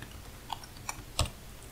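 A computer keyboard is struck in three sparse, separate keystrokes, close and quiet, the last the loudest, over a faint room hush and no talking.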